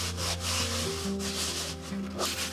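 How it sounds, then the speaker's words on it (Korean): A silicone scrubber with nubs rubs and scrubs across a mesh sieve strainer in a kitchen, giving close, continuous scratchy friction strokes with a steady background hum and no talk. "실리콘 돌기가 채망 구석구석을 쏙쏙 깨끗하게 닦아줘요."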